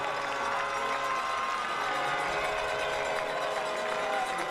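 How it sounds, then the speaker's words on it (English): A crowd at a Genoa Comets high school playoff football game cheers and roars steadily, a dense, continuous wash of distant voices and noise filling the stadium. "Genoa crowd trying to get behind their Comets."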